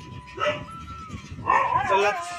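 A dog gives a couple of high, whiny yips and barks close by, with a thin steady tone running underneath.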